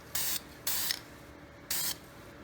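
Three short hissing bursts of VHT white ceramic spray paint from an aerosol can, close and fairly quiet, with brief pauses between them.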